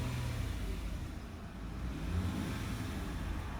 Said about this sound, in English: Now when I rev up the engine,